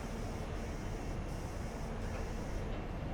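A train in the Train Simulator 2020 game, running on the Great Western line toward London, produces a steady, even rumble of rolling wagons and braking noise that holds at a constant moderate level throughout.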